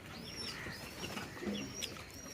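Pigeons coo in soft, low, repeated phrases at a crowded pigeon market, mixed with chirps and faint wing flutters from many birds nearby.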